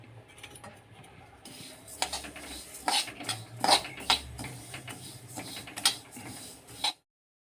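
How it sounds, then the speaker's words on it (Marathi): Sesame seeds dry roasting in a kadhai for homemade kala masala, heard as a close run of scraping, clinking stirs of a spatula against the metal pan with a soft rattle of seeds, no talking. "तीळ कोरडेच भाजायला टाकलेले आहे मी इथे."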